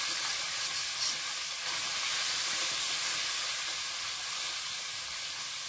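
Hot oil sizzling in a pan while shrimp cook in a home kitchen, a loud, continuous close-up hiss and crackle that stays steady throughout with no talking.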